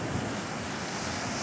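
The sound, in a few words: rough ocean waves at Maui coast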